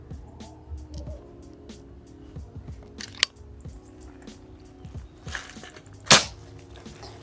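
A Ghost Warrior DB 300cc airgun from DF Company fires a single shot during a muzzle-velocity test. A sharp, loud crack stands out after a smaller click and light handling noises, with no talk.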